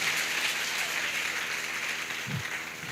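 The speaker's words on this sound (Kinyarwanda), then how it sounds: "Dukomere Imana amashyi menshi cyane" Church congregation applauding after a prayer, a steady wash of many hands clapping that fills the whole stretch evenly, with a brief low thump near the end.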